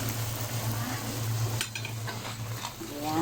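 Shrimp being stirred in a pan with homemade chili garlic oil, with a steady sizzle and the soft scrape of a utensil against the pan in a seafood mix, continuous and close, no talking.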